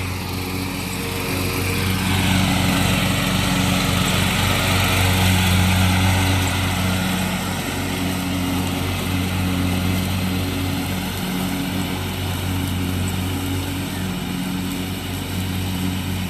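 A riding lawn mower with a Kohler engine runs steadily and close by, a loud continuous drone with a deep low hum and a buzzing exhaust, holding even for the whole stretch with no talk.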